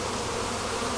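Agitated honeybees buzz in a dense, continuous swarm drone up close while a package of bees is installed into a hive with wired frames, a steady loud insect hum with no speech.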